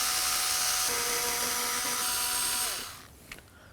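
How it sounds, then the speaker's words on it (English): A powered screwdriver spins out intake fasteners on a 2016-2020 Kia Sorento 2.4L, whining steadily for nearly three seconds before winding down, followed by a faint click. "Using a screwdriver, we're going to go ahead and take all 4 of these."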